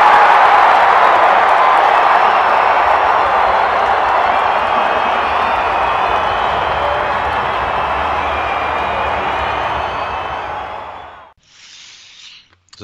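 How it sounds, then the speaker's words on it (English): Loud, dense applause from a crowd fills most of the clip, holding steady before dropping away sharply near the end. "All round applause from both of us."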